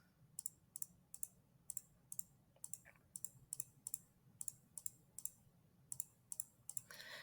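Faint, crisp mouse clicks sound in an uneven but steady series, about fifteen sharp taps over several seconds while shapes are selected one after another in a drawing program, with a quiet room hum beneath them.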